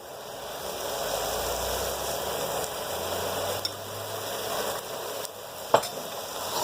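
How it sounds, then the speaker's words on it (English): Noodles tossed in a hot pan with Thai chili prawns, soy sauce and sriracha give a steady, close sizzle and frying hiss throughout, with a few soft scrapes and a sharp clink near the end. "And you just toss your noodles"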